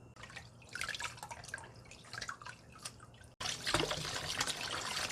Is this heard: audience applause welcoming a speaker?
no